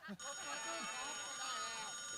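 A telephone rings steadily and continuously during a live comedy stage show, a sustained electronic tone heard alone and fairly faint.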